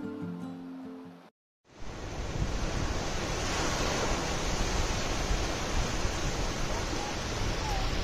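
Sea waves break at Mandarmani beach on an evening shore, a loud, constant roar of surf and wind that fills the whole stretch after a brief silent gap at the start.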